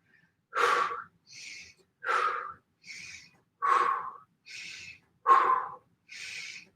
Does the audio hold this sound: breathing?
yes